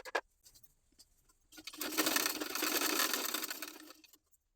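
A sewing machine stitches back tucks on a garment, running in one steady loud burst of about two and a half seconds after a few faint handling clicks.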